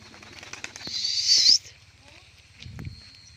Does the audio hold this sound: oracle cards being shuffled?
no